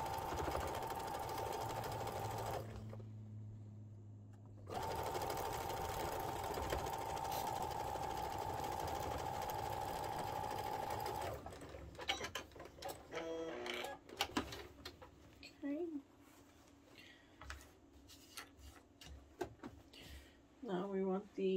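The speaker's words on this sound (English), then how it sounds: "we're just going to sew these up" Sewing machine stitching the edges of pink fabric, running loud and steady in two long whirring passes with a brief stop between them, then giving way to quieter handling clatter and speech.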